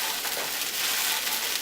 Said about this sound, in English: our green onions are frying